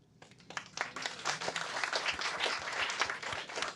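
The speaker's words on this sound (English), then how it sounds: "applause come out of our talk time, so we can hold off on any more applause." An audience at a talk breaks into applause, many hands clapping in a dense, rising patter that holds steady at moderate loudness.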